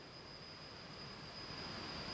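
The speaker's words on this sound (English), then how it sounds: "That's the freight train rolling in." A freight train in the Simrail game rolls in as a steady, even rumble of passing wagons with a thin high metallic tone running over it, rising slightly in level and with no voices.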